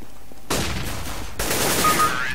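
Rapid bursts of rifle fire in the shooter game CS:GO, two loud sustained volleys of overlapping shots close up, with no talk.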